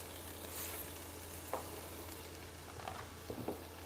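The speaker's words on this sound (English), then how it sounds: "And now I'm going to add the veggies. And we're gonna let those saute." Vegetables, red onion and cabbage among them, sautéing in sesame oil, a faint soft sizzle with a few light stirring scrapes, quiet and close, with no talking.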